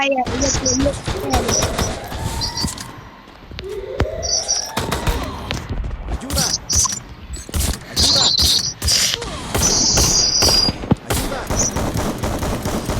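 Machine gun fire in a video game rips through in rapid, loud bursts with brief pauses and chirpy high effects between them, while a voice talks over the action.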